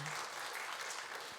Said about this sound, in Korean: 우리 잠깐 일어날 때 우리 격려의 박수 한번 드리겠습니다